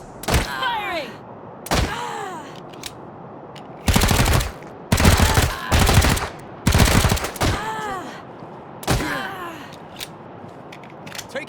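Bursts of automatic gunfire rattle in Wasteland 3, with several loud clustered volleys separated by short pauses and whooshing, ricocheting effects between them.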